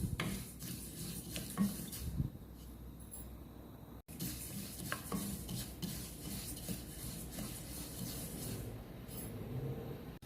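Sesame seeds dry roasting lightly in a pan, stirred steadily with a utensil. A continuous close scraping and rustling runs throughout, broken by a short pause midway, with no voices.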